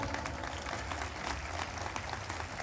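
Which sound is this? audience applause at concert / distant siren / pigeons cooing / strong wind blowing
audience applause at concert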